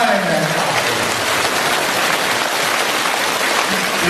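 A large crowd at a Buddhist dharma assembly in Penang, Malaysia, claps in a dense, sustained, rain-like wash of applause that stays loud and even throughout.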